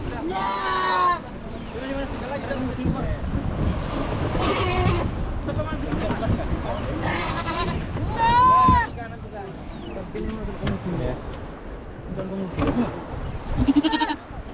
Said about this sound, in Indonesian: Nah ini ya kambing, kambing bembek.